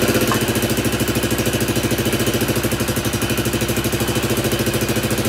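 Honda CT90 Trail 90 engine idling steadily while its carburetor air mixture is tuned, a close, even putter with a fast regular pulse that holds level throughout.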